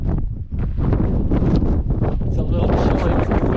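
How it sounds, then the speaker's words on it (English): Strong, gusty wind buffets the microphone on the chilly summit ridge of Mount Baldy (Mount San Antonio) above the clouds, a loud continuous roar with fluttering bursts; a voice is faintly mixed in. "It's a little chilly with the wind."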